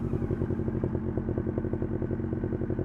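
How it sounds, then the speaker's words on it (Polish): A scooter arriving in the video game Alpha Polaris, its small engine putting along in a steady, rapidly pulsing chug, close and moderately loud throughout. "Ktoś przyjechał na skuterku."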